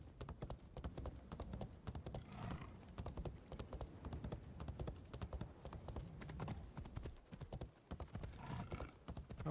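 Hooves clip-clop in a steady, rapid rhythm as a horse gallops in Assassin's Creed Shadows, mixed with a continuous rushing game soundscape and no talking.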